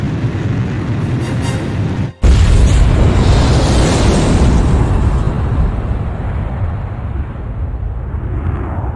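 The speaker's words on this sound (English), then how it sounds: "Mass driver hit by cruise missile." A cruise missile slams into a mass driver in the Ace Combat 5 flight game: after a brief cut, a huge, loud boom erupts and rolls on as a long, rumbling, crackling blast that slowly thins out.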